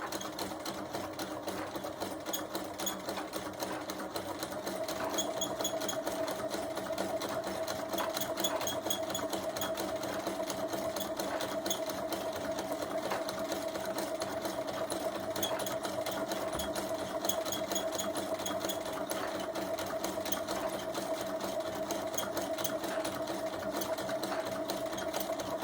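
Sewing machine stitching along the edge of a fabric candle mat, a long, even, fairly quiet motor hum with a fast steady needle patter and no talking.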